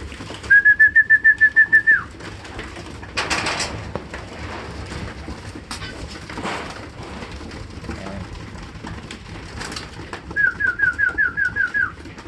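A racing pigeon coos in a quick rhythmic series of pulses, pauses through soft background noise and scattered knocks, then repeats the same cooing run at the end.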